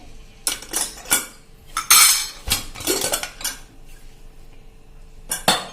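Metal clanks and clinks as a pressure cooker of boiled black chickpeas is opened after its pressure has been released, several sharp bursts of rattling lid and utensil noise spread across a few seconds, close and loud with no speech.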